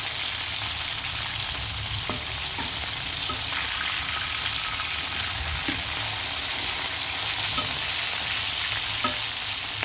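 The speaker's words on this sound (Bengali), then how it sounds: "এরকম সুন্দর করে লাল লাল করে ভেজে নেবেন" Chicken pieces fry in a pan with a steady, dense sizzle and crackle that holds close and even throughout, with no talking.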